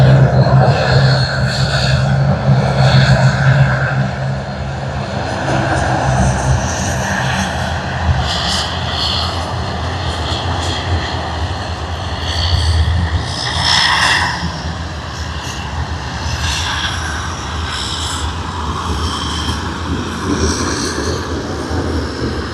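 All Nippon Airways airliner, flight NH879, passing at about 6,100 feet near Sydney Airport, a steady broadband engine roar that holds fairly loud throughout, swelling slightly at the start.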